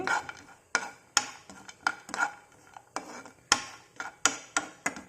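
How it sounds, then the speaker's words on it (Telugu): A pan of ghee being stirred and fried for a double ka meetha sweet, with sharp metallic spoon clinks and scrapes against the pan coming in an irregular rhythm, close and fairly loud with no talking. "ఇప్పుడు ఫ్రై చేద్దాం."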